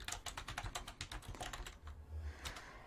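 Rapid typing on a computer keyboard, a steady run of quick clicking keystrokes with a brief pause before a final burst, close and fairly quiet, with no talking.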